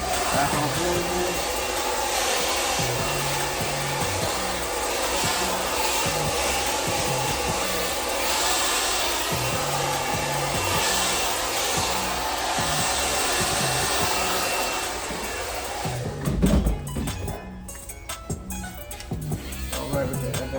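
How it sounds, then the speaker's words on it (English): An FX3 shaver buzzes steadily and close during a burst fade haircut, its loud constant motor hum running throughout, with quieter clicks and handling noises toward the end. "with the FX3 shavers, get that nice and skin"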